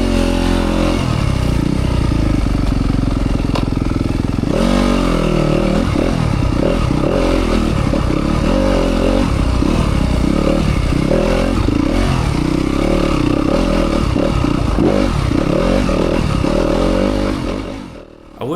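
A 2025 Yamaha YZ250FX dirt bike rides a rocky trail, its engine droning loud and close throughout with repeated throttle surges, while rocks clatter and scrape beneath the tires until the noise drops away at the very end.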